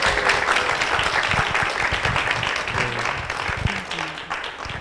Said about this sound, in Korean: 우리 박수로 한번 맞아보겠습니다.